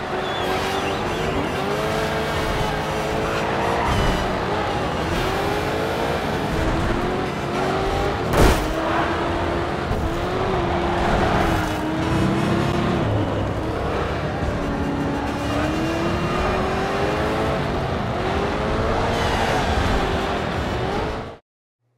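Race cars roaring through the Grid 2 racing video game, engines droning steadily with rising and falling pitch, tires squealing and skidding, one sharp impact midway, continuous and loud until an abrupt cut.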